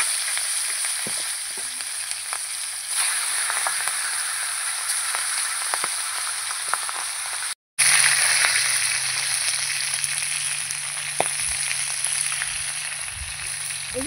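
Fish heads sizzling and frying in hot oil in a pan while cooking a fish-head and potato curry, a steady close crackling hiss with small pops, briefly interrupted partway through.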